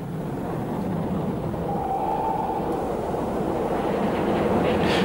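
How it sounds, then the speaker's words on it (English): A Castle class steam locomotive heads downhill with a short train toward Leamington in 1930s footage, a continuous rumbling roll of wheels and steam, steady and moderately loud throughout with no voices. "The castle, with its short train, is heading downhill towards Leamington."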